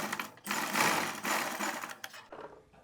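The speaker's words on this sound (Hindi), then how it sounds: "अब इस पट्टी पे हम सिलाई लगाएंगे यहाँ से" A sewing machine runs in steady bursts as it stitches a fabric strip for a garment neckline, loud and close, with brief pauses between runs and no talking.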